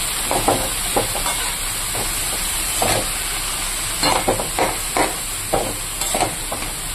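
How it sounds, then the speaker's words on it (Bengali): Cabbage fried with salt and turmeric in a pan, a steady sizzle with scraping stirs at irregular intervals, close and alone without talk. "এবার এটাকে আমি ভালো করে নাড়াচাড়া করে দিয়ে দেবো। তারপরে পরিমাণ মতো লবণ আর হলুদ দিয়ে ভেজে দেব।"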